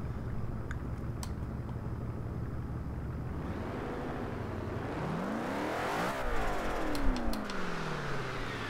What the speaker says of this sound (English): just the idle on this car sounds mean